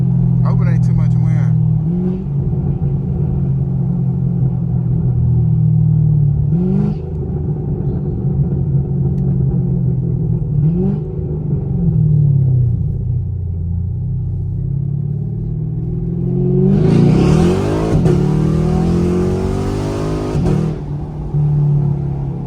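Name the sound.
Chevrolet Camaro SS engine revving and downshifting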